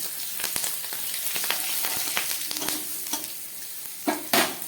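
Green chillies, bay leaves, radhuni and cumin seeds crackle and sizzle in hot oil, a steady spitting hiss with sharp pops and stirring scrapes throughout, growing louder toward the end.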